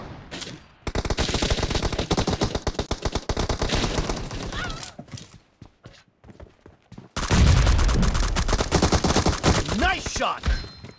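Rapid automatic gunfire bursts from a team deathmatch video game, loud sustained volleys with brief pauses, then another heavy stretch of shooting.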